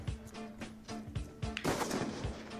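Rapid sniper rifle shots in a first-person shooter video game crack in a quick rhythmic series of about six close, punchy reports, followed by a heavier blast and a lingering roar.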